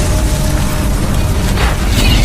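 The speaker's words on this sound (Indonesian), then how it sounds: "Jeep militer yang dikendarai Jenderal Morrison tiba-tiba meledak" A military jeep explodes in an action film, a loud, dense roaring blast that fills the whole moment with broadband noise and debris-like crackle, with no speech.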